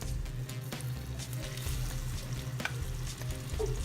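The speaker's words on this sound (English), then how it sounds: "Now it's time to add the butter." Butter dropped into hot, freshly reduced homemade caramel sauce sizzles and fries steadily and fairly loudly, with faint stirring clicks throughout and no voices.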